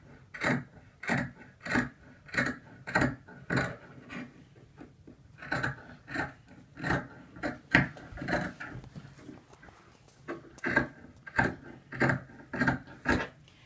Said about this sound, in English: I'm cutting here on the fold, so it creates me one piece for my front and my back